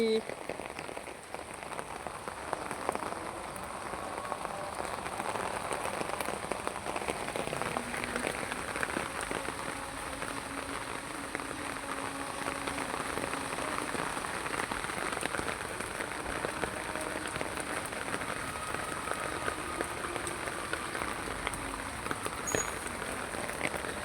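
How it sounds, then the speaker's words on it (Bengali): Steady rain falls on a rooftop during a sudden afternoon shower, a dense, even patter of drops continuing throughout at moderate loudness with no voices heard. "হঠাৎ করে বৃষ্টি চলে আসছে তা আমি বৃষ্টি দেখতে ছাদে চলে আসছি"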